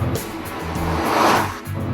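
Chevrolet Camaro 1LE with a 426 horsepower LS3 V8 accelerating hard, a deep, loud, steady engine roar building in intensity heard from inside the car, with no talking.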